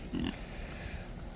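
Pigs on a farm give a short burst of grunting and oinking near the start, then fall back to a low background hum with no talk.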